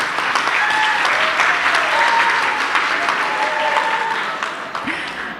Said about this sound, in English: Finally, let's give him a round of applause.